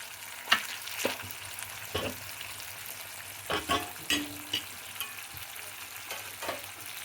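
Onions and tomatoes fry in a pan for a sabudana kichidi breakfast, a steady soft sizzle broken by several sharp scrapes and stirring knocks, close and without talk.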